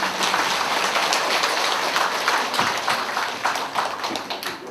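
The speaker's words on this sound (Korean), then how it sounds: "큰 박수 부탁드립니다." A dense patter of audience clapping at a Buddhist academic conference welcomes the next speaker to the podium, steady and fairly loud before tapering slightly at the end.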